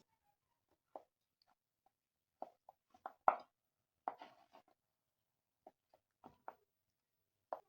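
Sparse, soft cutting thuds and taps as a knife cuts glycerin soap base into cubes, a dozen or so irregular strokes against a board in a quiet room.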